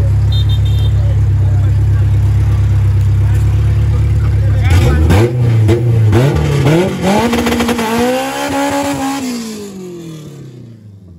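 A Toyota race car engine idles loudly at the start line, then revs hard in rising and falling bursts before easing off, with crowd chatter underneath.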